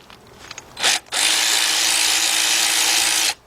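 Power tool spinning out the 13 mm brake caliper bracket bolts on a 2006 Cadillac DTS front brake, with a short burst followed by a loud, steady run of about two seconds that stops abruptly.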